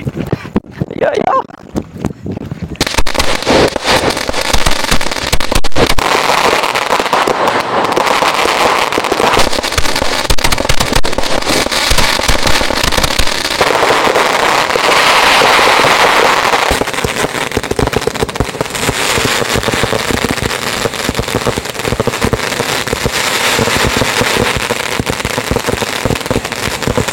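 Rapid multi-shot firecracker bursts crackle loudly and continuously for a long stretch, a dense rattling barrage with brief pauses and swells, like a machine gun.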